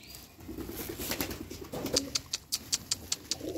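Pigeons being fed at a small home mini zoo coo softly in a rippling run, then wings flap in a quick series of sharp, evenly spaced beats close by.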